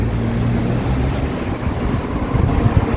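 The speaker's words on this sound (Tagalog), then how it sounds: "Lakas ang hangin." Strong wind buffets the microphone on a hot street in Japan, a steady broadband rush with low rumbling gusts that swell louder near the end, with no voices.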